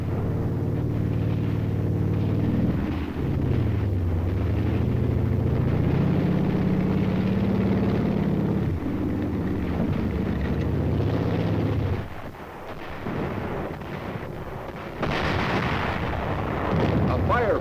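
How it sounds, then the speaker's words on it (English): Korean War firefight: a steady heavy roar of artillery and gunfire rumbles throughout, with deep booming surges, a brief lull near the end and then renewed bursts, under a narrator's voice. "A firefight begins."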